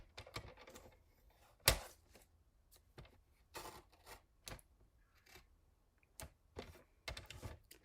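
A paper trimmer cuts tabs off cardstock: scattered dry clicks and short scraping snaps come at irregular intervals, with one sharp, loud crack among quieter taps.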